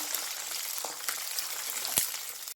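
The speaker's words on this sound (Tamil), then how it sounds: "கீறி வச்ச மிளகாய் சேர்த்துட்றேன் எண்ணெயில் நல்லா பிறக்கிடலாம்" Slit green chillies and curry leaves fry in hot oil for a homemade green chilli pickle, giving a steady, moderately loud sizzling hiss with a few sharp pops scattered through it.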